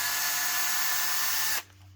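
A Ryobi cordless drill whirs in one brief burst to loosen a stuck bit in its chuck, a loud, steady high whine that cuts off abruptly near the end.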